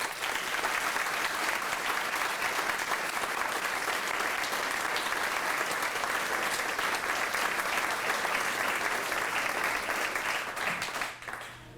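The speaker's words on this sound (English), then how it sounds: "let's give a big round of applause to the candidates" Sustained, dense applause from a ceremony crowd welcoming paid-on-call firefighter candidates after their oath of office, steady and loud throughout before tapering off at the very end.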